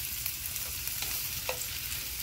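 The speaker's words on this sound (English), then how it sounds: "Just gonna give this a stir." Corned beef frying with onions and green bell pepper, a steady sizzle with a few soft scraping stirs of a utensil in the pan, close and moderately quiet with no talk.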